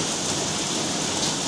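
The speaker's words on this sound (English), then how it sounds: "Lovely rain." Steady rain in Spilsby hisses evenly on outdoor surfaces, a dense close wash of drops with no break; no talk.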